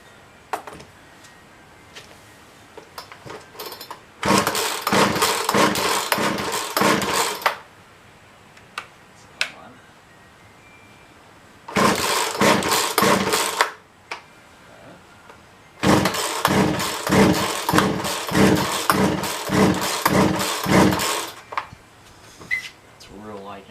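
A Poulan 2150 chainsaw with a faulty primer bulb is pull-started after carb cleaning, giving three bursts of rhythmic pull-cord cranking with sputtering compression chugs, loud and close, separated by quiet gaps, with talk in between.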